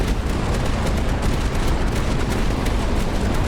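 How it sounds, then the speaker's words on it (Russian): Dense, continuous barrage of heavy weapon fire from an annihilator cannon in the tower defense game Tower Dominion, loud and unbroken for the whole stretch with no talking. "Аннигиляторная пушка!"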